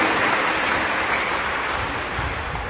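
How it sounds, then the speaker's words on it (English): Steady, dense applause from the congregation at a priest's ordination Mass for Reverend Father Jomar Castañeda, a continuous even wash of clapping with no voices. "We give another applause to Reverend Father Jomar Castaneda."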